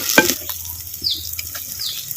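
Curry leaves crackle and sizzle in hot groundnut oil with shallots and garlic, a steady close frying hiss with a few brief stirring scrapes and pops.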